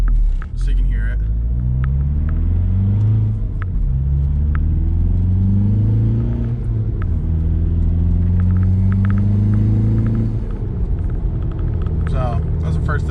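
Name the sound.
VW MK4 Jetta TDI with K&N filter accelerating through gears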